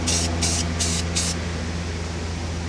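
Rust-Oleum spray paint hisses from a can in four short, even bursts onto a pen blank tube held on a screwdriver, loud and close over a steady low hum.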